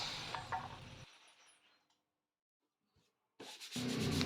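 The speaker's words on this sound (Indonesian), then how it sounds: "Kita haluskan menggunakan amplas seperti ini" Sandpaper rubs over a plywood board surface with close, rough scraping strokes that stop into silence and then return loudly after a short pause.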